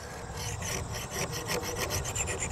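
A hand file rasps steadily across the fixed cutter blades of a hay mower, with close, rhythmic back-and-forth strokes at a moderate level and no talking.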